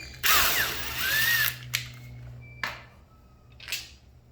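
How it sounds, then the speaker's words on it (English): A power driver whirs loudly as it backs a screw out of a twinpoint lever, followed by several short separate ratcheting bursts of tool noise in a quiet room. "Take the screw out."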